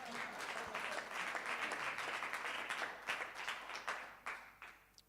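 An audience at a research conference applauds in a dense, sustained round of clapping that thins into scattered separate claps and fades out at the end.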